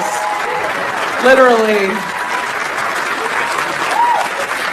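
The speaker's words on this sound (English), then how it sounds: "please clap for him" A stand-up comedy crowd claps steadily throughout, a broad wash of applause with a brief spoken word and a few whoops rising above it.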